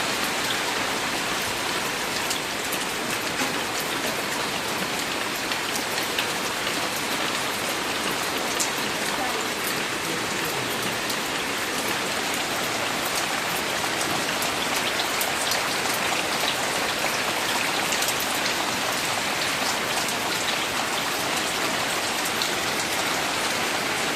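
Light drizzling rain falls steadily, a continuous even patter and hiss with no voices, holding at the same level from start to finish.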